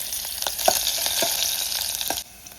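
Garlic and green chillies fry in hot oil with a steady, close, bright sizzle and a few soft spatters, the hiss cutting off sharply near the end and leaving quieter background.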